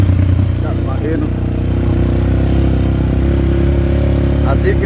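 A motorcycle engine warms up at steady idle, a continuous low rumble with light mechanical clatter, fairly loud and close throughout, while people talk over it.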